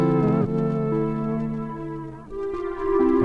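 A lo-fi Serum synth preset sampled from a cheap Casio VL-Tone plays a few thin, buzzy sustained notes with clear stepped pitch changes, up close and alone.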